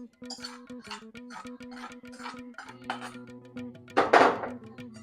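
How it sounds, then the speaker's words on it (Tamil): A metal spoon scrapes and taps in a pot as coconut rice is stirred together with ghee and pepper, giving a run of quick, close, irregular clinks that end in a louder scrape. "இதை மிக்ஸ் பண்ணிடலாம். பாருங்க, நல்லா கலந்து விட்டாச்சு."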